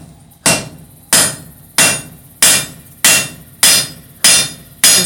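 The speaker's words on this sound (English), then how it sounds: "start setting down this boss area" A hammer forges hot steel on an anvil while tongs are being made, striking eight sharp, evenly spaced blows close by, each ringing briefly before the next, with no talk.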